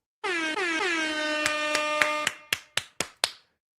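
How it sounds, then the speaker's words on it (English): An air horn blares in one long sustained blast, then several short sharp honks follow in quick succession before cutting off. "We got to bring out the air horns for this one."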